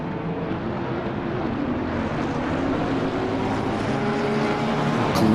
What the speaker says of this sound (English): glorious sound as the cars coming out of the chicane